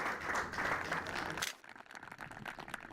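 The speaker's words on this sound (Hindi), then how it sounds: "जोरदार तालियां एक बार फिर से बजा दीजिए।" A studio audience on a farmers' quiz programme breaking into loud, dense applause that stops abruptly at about a second and a half, followed by faint scattered claps.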